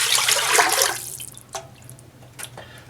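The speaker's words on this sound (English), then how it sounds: "We're going to pour that right into the pot." Chicken broth pours into a soup pot in a brief splashing rush for about a second, then a few scattered drips and small clinks follow, close up, with no voices.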